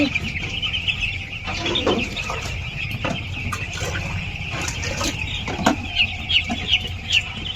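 Young chicks that have caught a chill keep up a continuous high peeping at close range, mixed with a few clucks and occasional voices nearby.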